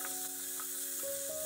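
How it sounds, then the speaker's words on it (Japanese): Carrot and daikon stir-frying in sesame oil for kenchin-jiru vegetable soup, giving a continuous close sizzle with faint stirring taps and a steady tonal hum behind it. "人参、大根も加えてよく炒めます。"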